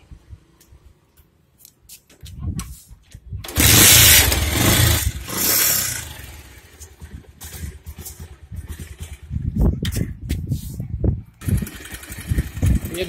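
A Bajaj Pulsar 150 motorcycle is started and left idling during a mileage adjustment, with a burst of revving followed by an uneven engine chug that runs close by, and someone talking over it.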